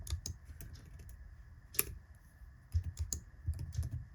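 Keystrokes on a computer keyboard while a Linux command is entered on an Arch Linux setup: light, close clicks in irregular bursts with short pauses, no voices.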